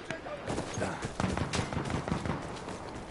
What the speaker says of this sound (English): a lot of gunfire over here.